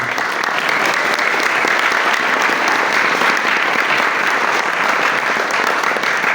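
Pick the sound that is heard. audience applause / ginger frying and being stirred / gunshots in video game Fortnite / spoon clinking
audience applause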